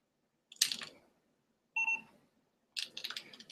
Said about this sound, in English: when you turn it on, you'll hear a little beep